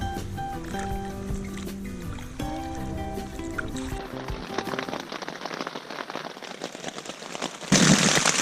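Rain patters steadily on a tent on a river trip along the Buffalo River, a soft continuous drumming with scattered drops and a brief louder burst near the end.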